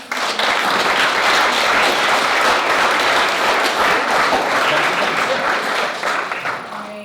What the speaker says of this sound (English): We'll now ask our small live audience for a round of applause for these candidates.